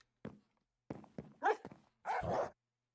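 Dogs bark in the Minecraft video game: several short, separate yips and barks close up, in an irregular run with clean silence between them.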